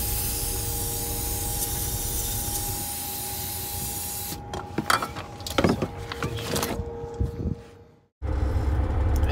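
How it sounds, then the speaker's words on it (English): Brake cleaner sprays through a thin straw onto a Volvo VNL or Mack truck engine while the crankcase oil breather and separator gasket are replaced: a close hiss broken by several short bursts, then a sharp cutoff and a return of steady noise. "use some brake cleaner with a straw"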